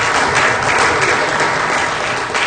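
Dense, loud applause with cheering from a seated audience at an evening panel event on the Australian Space Research Program, steady clapping filling the whole stretch without speech.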